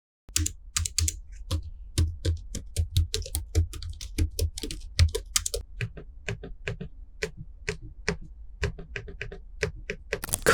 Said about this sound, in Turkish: Şimdi dilerseniz klavye sesine bir kulak verelim.